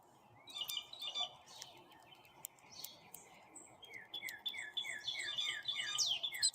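Several birds chirp and tweet outdoors, scattered high calls early on building into a quick repeated series of chirps toward the end, moderately near over faint background noise.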